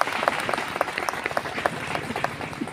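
Church congregation applauding during a sermon, a steady patter of many hands clapping at moderate distance, with a voice faintly under it.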